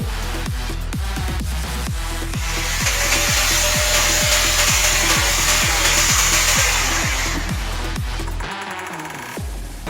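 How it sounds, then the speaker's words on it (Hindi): A grinder machine fitted with a blade cuts through a box for a homemade electrical testing lamp. A loud, steady grinding whine builds and holds for several seconds over a rhythmic mechanical pulsing, then cuts off near the end, with no voices. "अब हम इसको ग्राइंडर मशीन और ब्लेड की मदद से कट कर लेंगे।"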